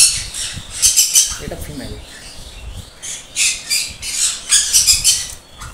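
Pet sun conures and yellow-sided conure parrots squawk in repeated shrill bursts close by, with someone talking between the calls and a few clinks of metal in the background.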